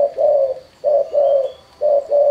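Spotted dove or zebra dove cooing nearby, three pairs of loud, mellow coos separated by short pauses, with no talk over them.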